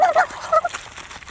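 Geese in a backyard poultry yard give a quick run of nasal honks, a few close, loud calls packed into a second with no talk.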